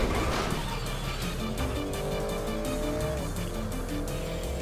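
A powerful motorbike ridden in Grand Theft Auto V, a loud sustained engine whine that climbs and shifts pitch under steady road and wind noise, with no voices.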